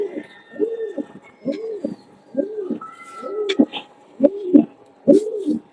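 Pigeons coo nearby in an open aviary in a steady run of soft, repeated hooting calls, with faint chirps and a few sharp clicks in the background.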